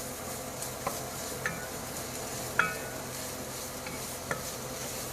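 Garlic frying in a pan, a steady soft sizzle with a few scattered clinks of a utensil against the pan, fairly quiet and close, no talking.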